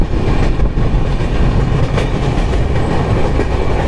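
Amravati Express train rolling across the Tungabhadra river railway bridge, a loud, continuous close rumble with rhythmic wheel clatter throughout and no speech.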